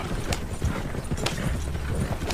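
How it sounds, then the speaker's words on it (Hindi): Hooves of a horse pulling a carriage clip-clop steadily along a road as it moves away, the rhythmic clatter fairly loud and unbroken, with no talking. "और जब घोड़ा गाड़ी उसकी नजरों से ओझल होने लगी तो वो वहीं रास्ते में ठहर गई।"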